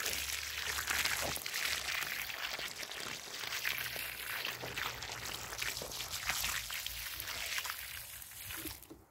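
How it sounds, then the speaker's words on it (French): Water pours from a watering can onto freshly planted leeks in a garden bed, a soft steady splashing and trickle that continues for several seconds; faint and outdoors, with no talking. "on passe à l'arrosage"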